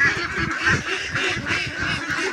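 A busy flock of hungry 64-day-old ducks eating feed, quacking and honking continuously, close by, with soft rustling and pecking underneath.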